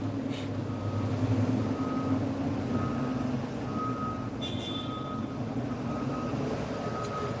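A truck rolling with its reversing alarm, a steady series of evenly spaced high beeps over a constant low engine rumble, with a brief hiss partway through.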